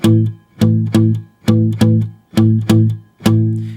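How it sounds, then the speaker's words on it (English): Palm-muted electric guitar chugging a 12-bar blues rhythm over 1, 4, 5 chords, with the picking hand resting on the bridge saddle, giving short, damped, punchy strums in a steady shuffle. "The main detail is that palm mute technique."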